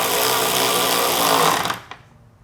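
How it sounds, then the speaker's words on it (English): Power tool driving 10mm screws on a Nissan Pathfinder brake light, a loud, close whirring buzz for about two seconds that cuts off abruptly, followed by a small click. "Now reinstall your two 10mm screws."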